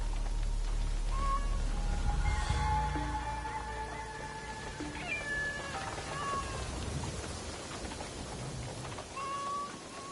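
A cat meows a few times in the video game Assassin's Creed Shadows, its calls clear against a steady bed of game ambience and soft music, with no talking.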